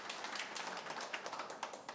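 Applause from the public gallery at a board of health meeting, a brief, fairly faint patter of many hands clapping from across a room, with no talking.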